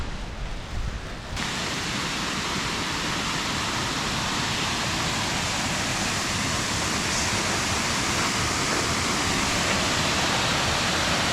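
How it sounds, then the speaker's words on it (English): A waterfall pours through a rain-soaked gorge that drains toward Cayuga Lake, a dense, steady roar of rushing water filling the scene from near by, with no voices. "See some waterfalls."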